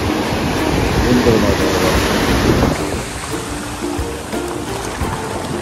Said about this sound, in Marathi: लाट बघा, लाट बघा.